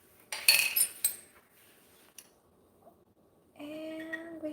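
A metal spoon scrapes and clinks against a crock pot while garlic is spooned into its bottom, a short burst of bright clattering followed by a single tap and a quieter stretch.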